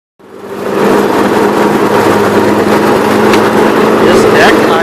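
A lawn mower engine runs steadily with its deck spinning, a close, loud, continuous mechanical hum and whine that starts abruptly and holds throughout.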